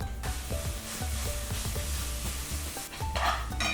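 Grated fresh coconut and jaggery for a modak filling are stirred in a pan, with repeated scraping strokes over a soft sizzle, close and fairly quiet.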